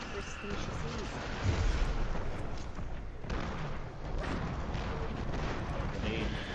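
Grenade blasts and booming gunfire from the shooter game Destiny 2 rumble continuously through a dense, loud battle mix, with voices talking over it.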